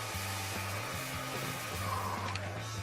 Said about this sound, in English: Isn't that the left hair dryer, Joey?